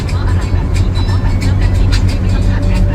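Isuzu TFR pickup truck with a 1J engine driving along the road, a steady low engine drone and road rumble running throughout, close and loud, with someone talking over it.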